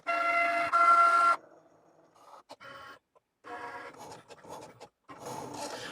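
Cricut cutting machine with a knife blade slicing material, heard as buzzing motor bursts and stops, short whirring moves and clicks separated by near-silent gaps, close and clear.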